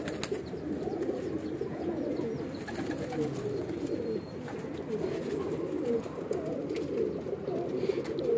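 Pigeons of Weshi, Kansani and Sialkoti breeds murmur in a soft, continuous cooing chorus at low volume, with faint scattered rustles and no voices.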